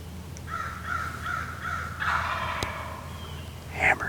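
A wild turkey gobbles on a spring morning in thick cover during a hunt. Its rattling calls come as a short series at moderate distance and are answered by another louder burst near the end, with no talk.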